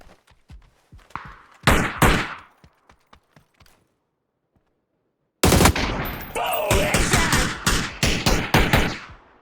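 PUBG gunfire on PC, starting with scattered single shots and short bursts, then a pause before a loud, sustained stretch of rapid automatic fire.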